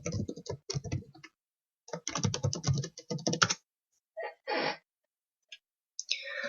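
Bursts of rapid computer-keyboard typing while logging in to a website builder account, clacking keys in short flurries separated by pauses, close and fairly quiet.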